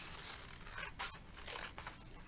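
Scissors snip through a sheet of paper being turned to cut one long spiral strip, giving a few close, soft rasping cuts with two brighter snips, no talking.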